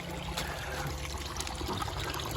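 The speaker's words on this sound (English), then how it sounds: "we've identified we've got a series of leaks down here" Water trickles and dribbles steadily from a leaking split pipe, a continuous close wet burble with no voices.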